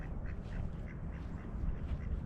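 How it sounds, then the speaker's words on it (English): Ducks quack along a nature walking trail, a series of soft, repeated calls at moderate distance over low outdoor background noise, with no voices. "See those ducks? So there are different kinds of ducks."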